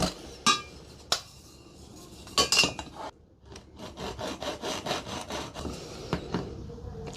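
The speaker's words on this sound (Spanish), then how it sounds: "con la lima podemos hacer el calado deseado para realizar esa canaleta y que no se mueva la varilla" A hand file cutting a groove into a metal rod for a homemade TV antenna: a few sharp scraping strokes at first, then a quicker run of rhythmic rasping strokes, close and alone.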